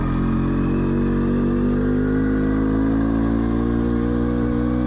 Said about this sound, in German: Der typisch blechern klopfende Zweitaktklang verschwindet beim Anfahren und verändert sich zum dezenten Brummen